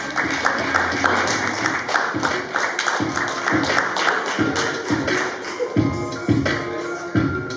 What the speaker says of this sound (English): let's clap my man Vlad up